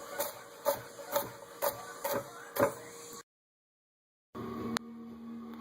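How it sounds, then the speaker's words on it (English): A knife chops green peppers into strips on a cutting board, six evenly spaced sharp thuds close by, followed by a brief silence and a single knock. "just chop it and roll the knife"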